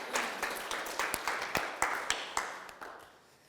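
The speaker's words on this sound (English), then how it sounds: "let's get a round of applause for everybody" A small audience at a coaching session claps in a brief, sparse round of applause. Individual claps are distinct and fairly quiet, trailing off toward the end.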